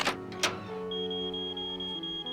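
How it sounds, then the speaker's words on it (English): Electronic alarm in the Nancy Drew video game Treasure in the Royal Tower: a steady high-pitched tone sounds continuously over a sustained chord-like drone, after a couple of short clicks at the start, with no talk. "we'll get this alarm set turned off here"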